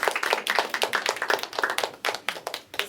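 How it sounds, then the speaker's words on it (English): Audience clapping in a children's music event, a dense round of applause with many hands striking in quick, slightly uneven bursts, moderately near and continuing throughout. "applause"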